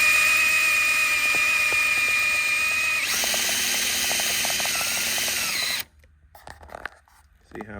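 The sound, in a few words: Milwaukee drill spinning a sewing bobbin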